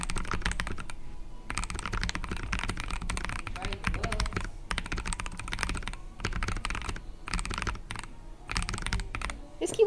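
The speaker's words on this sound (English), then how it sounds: "This keyboard sounds very muted." Typing on a KBD67 Lite R3 mechanical keyboard, a steady and fairly muted clatter of keystrokes with brief pauses, while people talk in the background throughout.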